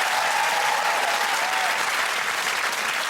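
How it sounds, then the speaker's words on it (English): A studio audience at a comedy quiz show bursts into applause, a loud, dense wash of clapping with some crowd cheering, sustained evenly across the whole moment. "Give them a round of applause."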